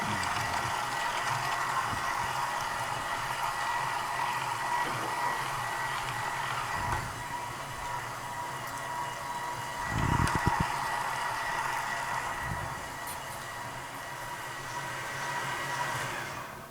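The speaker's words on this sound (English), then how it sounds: "Speed 4 is the correct speed to grind the meat." An electric meat grinder at speed 4 grinds venison stew meat for chili, giving off a steady, close motor whir with occasional deeper grinding surges and no talk.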